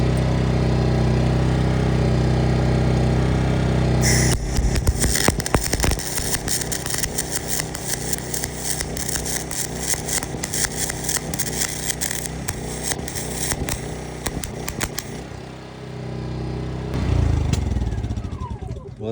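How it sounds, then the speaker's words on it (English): A portable generator drones steadily while an arc welder crackles and sputters in bursts through the middle, the engine carrying on alone before and after, with a voice speaking briefly. "You can weld with the generator."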